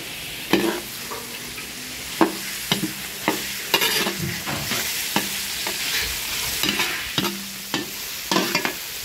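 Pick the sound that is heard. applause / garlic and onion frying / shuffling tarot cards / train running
garlic and onion frying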